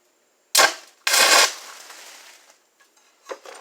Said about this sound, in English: I hear sparks going everywhere, but I don't see them. Sounds like a firework going off, or a sparkler.